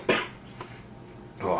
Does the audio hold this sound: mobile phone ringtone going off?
no